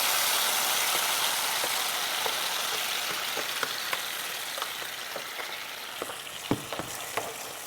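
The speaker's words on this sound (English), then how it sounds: "We're gonna let it fry" Ingredients frying in oil in a pan for chile con queso, a steady broadband sizzle with scattered pops and crackles that grow sharper toward the end, no talk.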